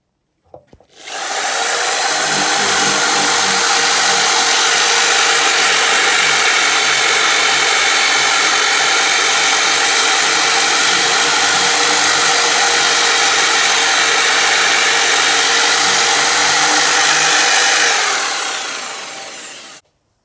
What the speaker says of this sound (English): I'm going to go back to power sanding.